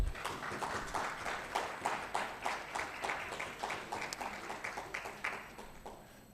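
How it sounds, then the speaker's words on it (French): A seated audience applauds a health director from Togo at a conference, a steady patter of hand claps with soft rhythmic peaks, fairly distant and fading slightly over several seconds. "en commençant par Dr Abraham Agossou du Togo, que je vous prie d'applaudir"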